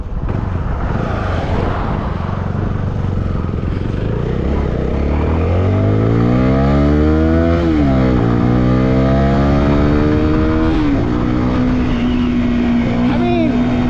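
A CFMOTO motorcycle engine runs loudly and close, idling with a throaty rumble before revving up and down in several rising and falling sweeps, then settling into a steady higher hum.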